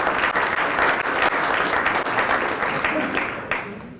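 A room of retirees at a university emeriti breakfast applauds steadily, a dense wash of clapping with some voices mixed in, holding level for four seconds.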